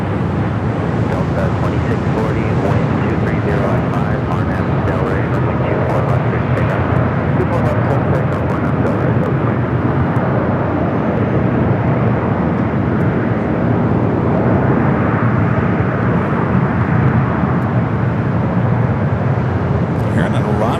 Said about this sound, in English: Air New Zealand coming in from Auckland. The 777-300ER.